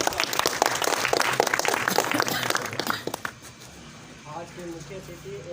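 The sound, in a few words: applause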